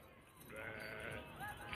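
Goats bleat on a farm in Pakistan, with a few wavering calls at moderate distance over a noisy outdoor background.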